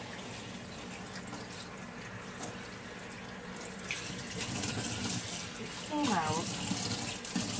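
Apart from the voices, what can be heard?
tap water running while rinsing coffee-dyed linen fabric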